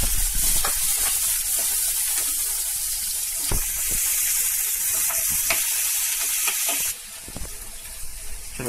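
Spices fry together in a pan for poha with a continuous bright sizzle and hiss. Occasional stirring taps punctuate it, and the sizzle drops slightly near the end.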